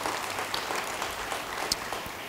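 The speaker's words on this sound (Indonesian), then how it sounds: "beri tepuk tangan yang baik bagi dia." A church congregation during an Indonesian sermon applauds, a soft, diffuse patter of many hands clapping at a steady level, somewhat distant with an occasional sharper clap.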